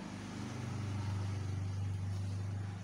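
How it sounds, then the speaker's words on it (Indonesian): A low engine drone builds and holds steady nearby, like a motorbike rolling past, under a constant background hiss. "Bahkan ada suara motor lewat pun juga tidak saya pause"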